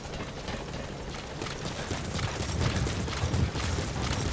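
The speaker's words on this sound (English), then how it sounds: "Support helicopter has arrived." Support helicopter arriving in Metal Gear Solid V: The Phantom Pain, a rotor thump and whooshing engine drone that swells louder as it nears, with no speech.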